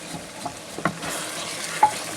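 A spoon stirs garam masala, crushed red chilli, turmeric, chilli powder and salt into chicken feet paya in a pot, giving a few soft scraping strokes over a faint sizzle, with no talking.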